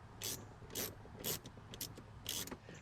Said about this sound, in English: So we've got 2 10 mil bolts here like we had on the front that we're going to take off.